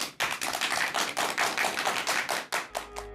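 Studio audience at a lecture on dreams breaks into dense, sustained applause welcoming the speaker, loud and close, a steady wash of clapping that tapers in the final half second.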